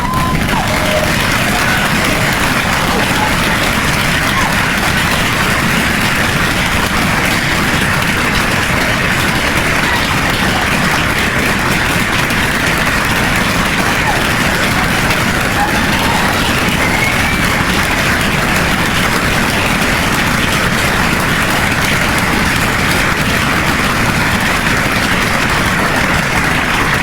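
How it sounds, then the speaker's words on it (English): Dinner guests give a retiring school head a long round of applause at a retirement dinner with the board of trustees, a dense, steady roar of clapping sustained throughout. "I'd like to ask that we give Steve a round of applause"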